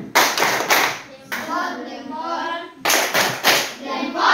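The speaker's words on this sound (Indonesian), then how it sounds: "Ayo, tepuk semangat." Children in an Indonesian classroom perform a rhythmic spirit clap: bursts of loud, sharp, synchronized claps in patterned groups, with a short stretch of children's chanting voices between the clapping sections.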